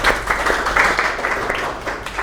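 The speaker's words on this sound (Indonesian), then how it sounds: "Oke, tepuk tangan untuk Mas Ferdi." A classroom group claps briefly for a participant, producing a short burst of close, steady applause that holds throughout.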